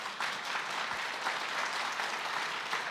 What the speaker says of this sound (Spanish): Alguien que le dé un aplauso al Espíritu Santo.